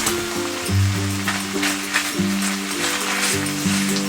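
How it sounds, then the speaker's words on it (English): Bacon and sausages in a dry pan give off a steady crackling sizzle, while piano music plays over the frying. "I'm going to put these into a dry pan because I think that bacon and sausages have enough of their own fat that comes out of them to cook themselves"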